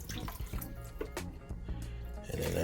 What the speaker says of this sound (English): Now we got to get these braised, so I'm gonna add me some beef broth.